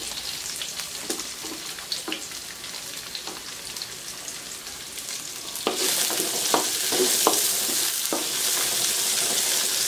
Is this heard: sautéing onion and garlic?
yes